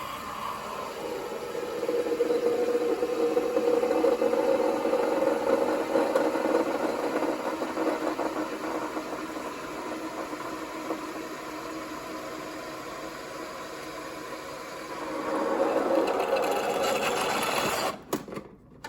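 A cheap $29 espresso machine runs while making cappuccino, giving a steady buzzing pump drone for about eighteen seconds that rises in intensity near the end before cutting off, close and with no talking.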